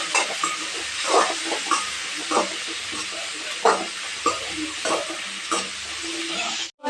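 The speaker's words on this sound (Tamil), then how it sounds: "கருவேப்பிலை நல்லா வதங்கட்டும்" Curry leaves sautéing in a pan with small tomatoes for chicken curry, giving a steady close sizzle and hiss with repeated stirring scrapes throughout.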